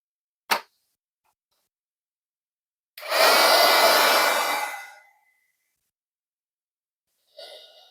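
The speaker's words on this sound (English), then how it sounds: "And then I'm going to use my heat tool." An embossing heat tool blows hot air over embossing powder on a photo in one loud, close two-second whoosh that fades out, framed by a sharp tap before and a short burst of blowing near the end.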